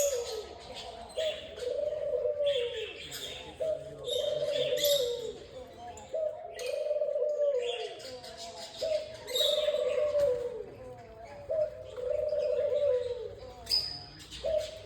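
Birds coo and chirp in a repeating rhythm, soft dove-like coos alternating with higher chirps, moderately close and continuous with no talking.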